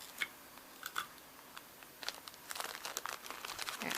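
A folded plastic bread bag gets crinkled and taped shut with Scotch tape, giving faint, close rustles and quick crinkling ticks that cluster toward the end.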